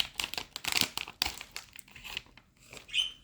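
Crinkly plastic backpacking meal packet being handled and torn open, a close, dense run of crackling and rustling bursts with no talking.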